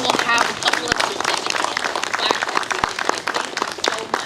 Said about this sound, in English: let's all really give a hand clap to this new initiative